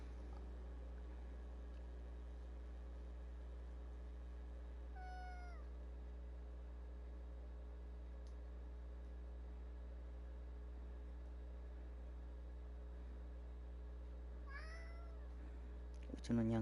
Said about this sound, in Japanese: うちのにゃんこが泣いておる。